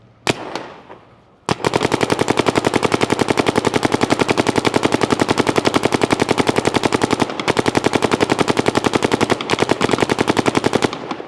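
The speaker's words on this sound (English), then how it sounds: "We're shooting the HK Army Sonic like promised." A paintball marker fires with an HK Army Sonic loader on NXL ramping at 12 balls per second, a rapid, loud, machine-gun-like stream of shots running continuously with brief pauses after a couple of opening single pops.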